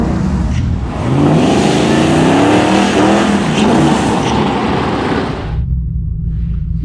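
An LSX-powered truck on drag radials revs loudly at a drag strip, a dense, roaring engine note that holds for about five seconds before cutting sharply to a low idle rumble.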